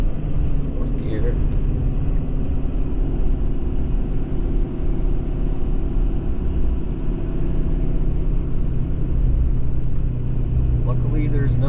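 A 2017 Ford F-550 Powerstroke diesel truck in fourth gear, towing a heavy load of about 30,000 pounds up a steep hill, drones with a steady, loud low rumble heard from inside the cab, while someone talks.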